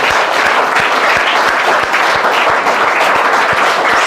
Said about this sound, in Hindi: तो एक बार जोरदार तालियां इनके परिवार के लिए।